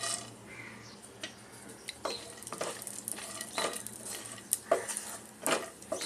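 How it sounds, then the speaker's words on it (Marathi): Crushed dry fruits fry in a spoonful of ghee while a spoon stirs and scrapes the pan, producing a soft, low sizzle under repeated clinks and taps of metal. "ते आपण जरा आता तुपात फ्राय करून घेऊया"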